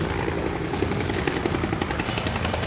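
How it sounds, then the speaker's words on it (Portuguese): A police helicopter flies low overhead during a search in a Rio de Janeiro community, its rotor producing a loud, continuous dense roar with steady rapid chopping throughout. "O helicóptero está realmente muito baixo."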